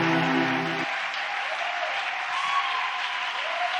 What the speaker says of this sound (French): donner le plus longue acclamation que tu n'as jamais donnée.